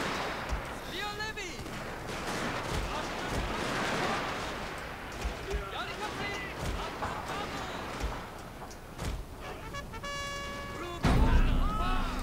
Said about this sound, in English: So I'm going to let their melee troops get shot up by my rifle troops